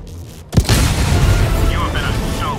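A Hellbomb detonates in the video game Helldivers 2, a sudden heavy blast followed by a long, loud, rumbling roar that fills the rest of the moment, with faint game voices in the background.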